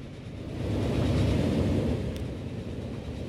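A train in the Transport Fever 2 game, on the Baghdad Railway campaign, gives a low, steady rumble that swells for about a second, then eases back. No voices are heard.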